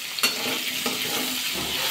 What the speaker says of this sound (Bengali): আগে আলু আর কপিটা একসাথে ভাজা করে নিলাম